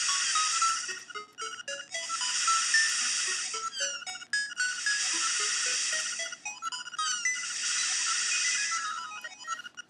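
A melodic electronic tune from The Legend of Zelda: Link's Awakening DX plays continuously, bright chiming notes rising and falling in repeating phrases, with no voices.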